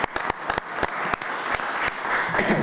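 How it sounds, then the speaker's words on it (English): Applause from the audience at a local board meeting, a short burst of quick, sharp hand claps from a small group that holds steady throughout. "I think they deserve a round of applause"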